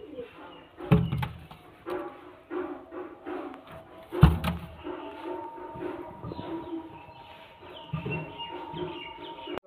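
Several pigeons coo in low, throaty bursts, quiet and close, among birds kept for sale, including a golden male pigeon.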